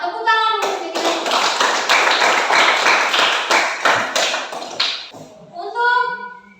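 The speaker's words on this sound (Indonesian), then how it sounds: "Tepuk tangan untuk cerita ini." A class of students in a classroom bursts into loud, sustained applause lasting about five seconds, with children's voices talking just before and after it.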